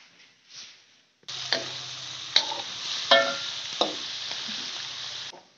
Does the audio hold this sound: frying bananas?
yes